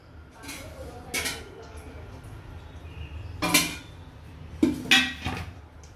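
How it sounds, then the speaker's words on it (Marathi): A metal kadhai heated on a home kitchen stove clatters as oil goes in: several sharp, close clanks and knocks spread across a few seconds, with quieter kitchen noise between them. "तेल टाकून घेते कढईमध्ये."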